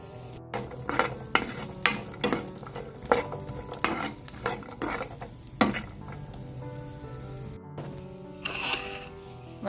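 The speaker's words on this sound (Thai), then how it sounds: "เราจะเอา ส่วนของพริก กับหอมหอมแดงและกระเทียมไปคั่วนะคะ ไปคั่วหรือไปย่างในกระทะนะคะ" Chillies, shallots and garlic dry-roasted in a pan, with repeated scraping stir strokes and rattling over a low crackle, in an irregular rhythm that stops briefly near the end.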